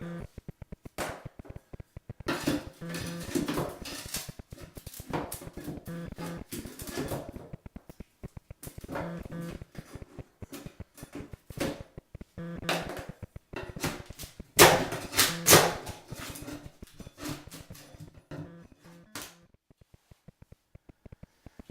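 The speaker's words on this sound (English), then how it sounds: "now you need to remove the carpet sticks" Carpet tack strips with sharp little nails are pried up from a bathroom floor during a full remodel, giving repeated sharp cracks, knocks and splintering snaps in irregular bursts, close and fairly loud, with short quiet gaps and no talking.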